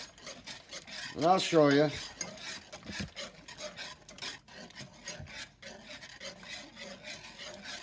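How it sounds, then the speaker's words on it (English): Creamy carbonara sauce with smoked pancetta stirred in a pan, a soft rasping scrape of spoon against the pan recurring through the clip, with a brief spoken phrase near the start. "So you just want to keep stirring this."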